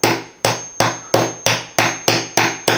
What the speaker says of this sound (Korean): 수직적으로 힘을 받는 쪽으로 제가 만약에 망치를 친다면 거의 깨지지는 않습니다